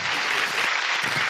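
Children clapping together at a Sunday school gathering, a dense burst of applause close by, sustained and even for its short length.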